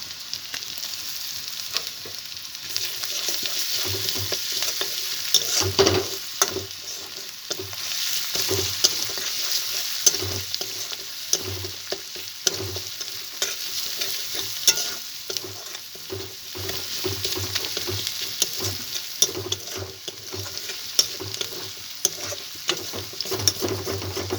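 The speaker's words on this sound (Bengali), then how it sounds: "তারপর আমি দিয়ে দেব রসুন বাটা" Garlic paste frying in a pan for a prawn malai curry, a dense steady sizzle with repeated clicks and scrapes of a spatula stirring, close and sustained for the whole stretch, no voices.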